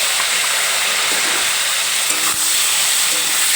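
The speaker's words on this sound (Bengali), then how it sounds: "এখন এই মাছ ভাজা বাকি তেলের মধ্যেই ফুলকপিটা ভাজার জন্য দিয়ে দিলাম" Cauliflower frying in oil left over from frying fish gives a loud, dense, unbroken hiss of sizzling, close by and steady for the whole stretch.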